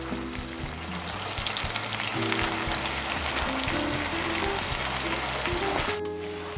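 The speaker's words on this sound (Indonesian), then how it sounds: "Tidak meletup-letup saat cabai rawitnya digoreng." Continuous crackling sizzle of scored bird's eye chili peppers frying in hot oil, steady and close, with occasional soft stirring sounds.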